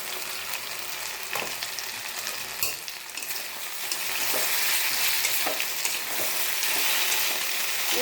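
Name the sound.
elephant apple (chalta) frying and stirred with sugar in pan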